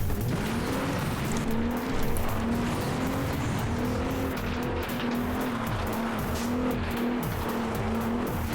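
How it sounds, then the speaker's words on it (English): A race car engine in the video game FlatOut 2 roars continuously, pitch rising and falling with gear changes, under constant loud road and tire noise. "when I make my car go vroom, it's just in the video game"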